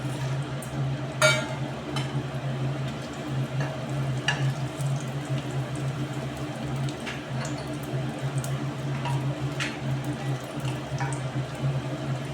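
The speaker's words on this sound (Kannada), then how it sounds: "ಆಯಿಲ್ ಬಿಸಿಯಾದ ನಂತರ ನಾನಿಲ್ಲಿ ಬ್ಯಾಡಗಿ ಮೆಣಸಿನ್ಕಾಯಿ ಹಾಕ್ತಾ ಇದ್ದೀನಿ" Byadagi dried red chillies fry in hot oil for a hotel-style sambar, a steady bubbling sizzle with a low hum beneath and a few brighter crackles, continuous and fairly close, with no speech.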